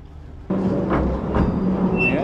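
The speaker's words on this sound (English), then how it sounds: "We're going to go on a little train." A small tourist train on Busselton Jetty in South West Western Australia starts up with a steady low rumble and clatter that continues to the end, with people talking over it.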